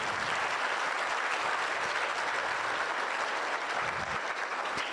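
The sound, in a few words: audience round of applause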